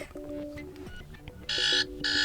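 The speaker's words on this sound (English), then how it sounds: "For example, buzzer." Buzzer alarm tone on a Motorola Moto E32s phone, two loud, harsh bursts of steady buzzing that follow a few short, softer chime notes, all close and clear with no voice over it.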